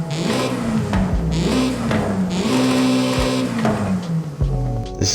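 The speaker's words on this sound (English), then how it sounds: "And this is how the stock one sounds." A Honda Civic EP3 Type R on its stock exhaust revs repeatedly, its engine note climbing and falling through several rises and dips, close and loud with no talking.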